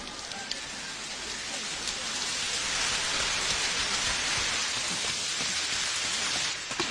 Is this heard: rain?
yes